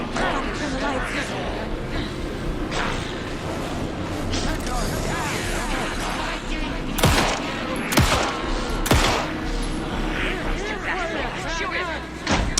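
Gunfire in the video game Alan Wake: a dense, continuous barrage of shots and thuds over busy game noise, with a few sharp, louder bangs and voices mixed in.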